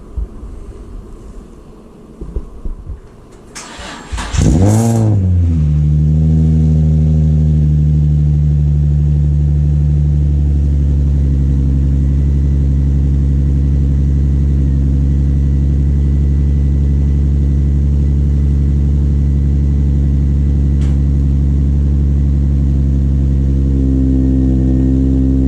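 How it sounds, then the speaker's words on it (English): An Infiniti G35 sedan cold-starts: a short starter crank catches into a loud engine that settles into a steady, droning high idle and holds alone for about twenty seconds. "We're gonna go ahead and start this off with a little cold start."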